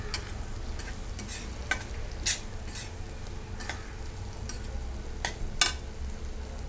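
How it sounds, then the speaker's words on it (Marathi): Onion-garlic masala sautéing in a pan with red chilli powder, a steady low sizzle with scattered light ticks and clinks of stirring, close and quiet, no voices. "आपला कांदा लसूण मसाला हा अगोदर छान परतवून घ्यायचा"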